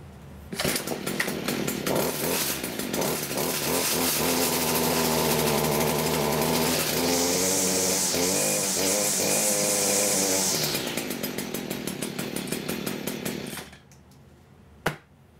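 A Stihl string trimmer's small two-stroke engine, newly fitted with a replacement starter, runs loud and close for about thirteen seconds, buzzing steadily with brief revving in the middle before cutting off, followed by one sharp knock.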